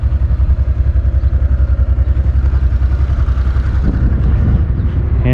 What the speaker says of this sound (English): And that's Gwen on her DN-01, the fully automatic Honda.